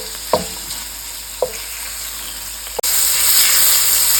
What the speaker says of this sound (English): You have to saute it until really golden color, not too crispy, not too dry.